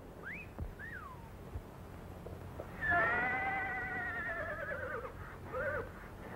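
A horse whinnies once, a high wavering neigh after a couple of short squeals, fairly faint against a quiet background.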